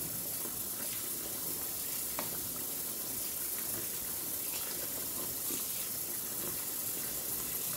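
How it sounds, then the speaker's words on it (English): Tap water runs steadily over bean curds in a kitchen sink, rinsing out baking soda; a continuous, even hiss and splash with no voices. "So while this is rinsing, we're going to work on the leeks."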